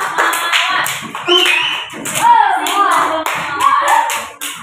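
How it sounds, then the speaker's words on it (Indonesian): Applause from a classroom audience for a group of students who have just presented, a few seconds of steady, fairly loud hand clapping from many people with no talk over it. "Kita kasih aplaus untuk temannya dari kelompok"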